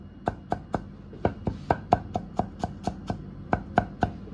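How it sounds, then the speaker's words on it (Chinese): A kitchen knife chops peeled, smashed garlic cloves into large pieces on a board, about fifteen sharp, evenly paced strikes, close and loud with no talk. "然后呢剁成大颗粒"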